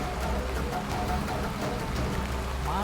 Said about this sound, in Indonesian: Udah hujan gini